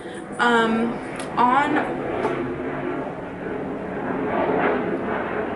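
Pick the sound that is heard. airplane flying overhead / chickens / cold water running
airplane flying overhead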